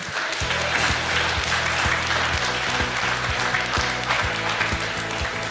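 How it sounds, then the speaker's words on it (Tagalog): A church congregation claps together in a steady, rhythmic beat, close and fairly loud throughout, with low sustained musical tones underneath. "Palakpakan po natin ang Panginoon."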